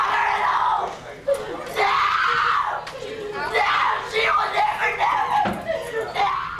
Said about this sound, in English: She had to be taken out of the courtroom screaming.